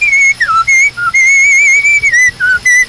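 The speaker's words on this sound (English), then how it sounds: "No wonder he's whistling." A man whistles a bright, steady melody, close and loud, with sustained notes and brief pitch dips across nearly three seconds, heard during a 1957 Oldsmobile radio advertisement in a Dodgers–Phillies baseball broadcast.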